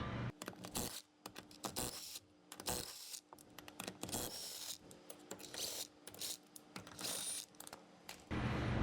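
A ratchet works loose the lug nuts on an AWD Honda CRX wheel, sounding as close bursts of rapid clicking separated by short pauses, with some metallic rubbing in between.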